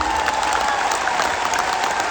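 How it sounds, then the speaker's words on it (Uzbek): An audience breaks into steady, dense applause, a continuous, even wash of many hands clapping at once that holds throughout. "Sizlarda qarsaklar."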